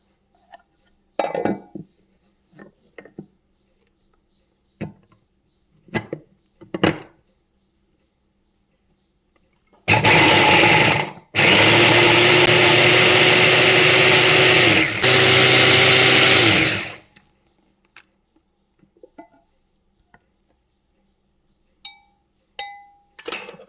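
A mixer grinder chops washed jackfruit seeds in one loud, continuous whirring burst of roughly seven seconds, broken by a brief pause. Scattered clinks and handling knocks come before and after it.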